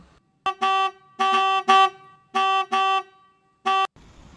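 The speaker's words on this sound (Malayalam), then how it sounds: "സിദ്ധു നമ്മുടെ കാറിനാ ഹോൺ അടിക്കുന്നേ." A car horn honks repeatedly in short and longer blasts, loud and close, with gaps between them.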